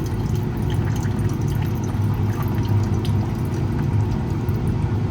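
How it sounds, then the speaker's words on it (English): Water poured off metal powder in a lab beaker makes a continuous low, splashy trickle that holds steady for the whole span, close and moderately loud. "I'm going to pour this water off."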